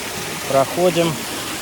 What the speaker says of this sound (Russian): И вот он, водопад.